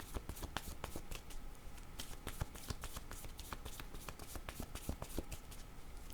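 Tarot cards are shuffled and drawn from a deck in a rapid run of crisp riffling snaps and flicks, close and fairly quiet.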